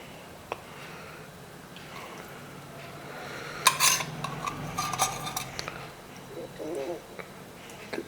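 A spoon stirs ragi (finger millet) bread batter with desi ghee in a bowl, making soft scraping and light metallic clinks. The clinks grow busier midway, with no voice heard.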